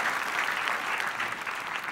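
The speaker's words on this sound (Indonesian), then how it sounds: "Tepuk tangan dulu dong, ya." Studio audience on a TV talk show claps in a steady, even burst of applause, fairly loud and continuous throughout the short stretch.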